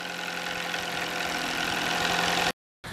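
An old $200 clunker car's engine idles steadily nearby with a rough, knocking mechanical hum, cutting out briefly near the end before resuming; no voices.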